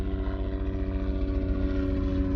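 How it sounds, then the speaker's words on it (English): A helicopter flying overhead makes a steady, droning engine hum with a throbbing rotor pulse, holding at constant loudness, fairly close, with no voices. "after this helicopter, destroys my audio"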